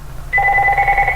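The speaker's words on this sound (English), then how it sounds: "that's the phone" A telephone rings nearby with a bright, steady two-tone electronic trill, starting suddenly after a quiet moment and continuing loudly.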